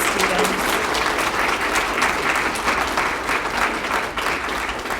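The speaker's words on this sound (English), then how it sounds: "Can we just have another round of applause for these students?" An audience at a regional poetry recitation final gives students a full, continuous round of applause, many hands clapping loudly and evenly throughout with little variation.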